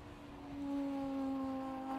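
A yellow supercharged Porsche 911 race car heading into the pits at Snetterton, its steady engine drone building slightly and holding, heard at a distance under a faint background hum.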